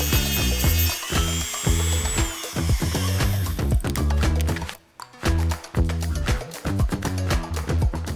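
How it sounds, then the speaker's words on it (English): A power tool rapidly cuts and grinds metal off an old truck speaker, a loud dense chatter with a whining tone early on, breaking briefly near the middle before resuming steadily. "I just cut everything off of it and then I ground it flat so the speaker could sit on there."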